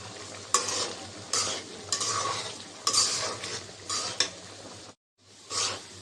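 Potatoes coated in turmeric fry in a pan for beef biryani, a soft sizzle punctuated by loud metal spatula scrapes and clinks in uneven bursts, then a brief silence.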